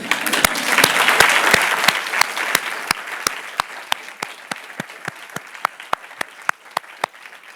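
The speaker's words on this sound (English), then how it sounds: "So I take this opportunity to clap for you, and please clap for yourself back." Audience at a conference session applauding, a dense burst of clapping that thins out over several seconds into a few loud, evenly spaced single claps close by.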